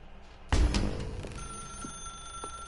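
A telephone rings inside the video game The Stanley Parable, a sudden loud burst followed by a sustained electronic ringing tone, close and alone with no talk.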